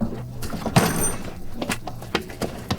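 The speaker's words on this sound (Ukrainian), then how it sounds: "типу гупання дверима чи якихось кроків" Indoors, a door bangs with a dull thunk and rattle amid a busy background, followed by scattered knocks and steps, moderately loud against a constant ambient wash.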